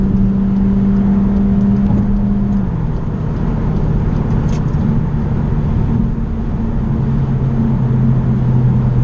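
A Cupra Formentor 1.5 TSI 150 crossover with a DSG gearbox driving along at low revs, giving a steady loud drone of engine and road noise inside the car that shifts slightly in pitch partway through.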